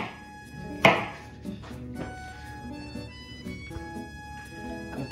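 Knife chopping watermelon on a cutting board, one firm thud followed by lighter irregular cuts close by, with faint background sounds.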